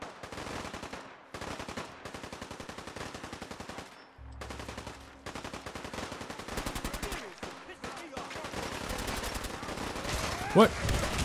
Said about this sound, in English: I am not comfortable with the amount of gunfire that is being shot right now.